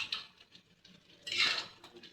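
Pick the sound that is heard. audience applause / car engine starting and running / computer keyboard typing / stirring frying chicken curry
stirring frying chicken curry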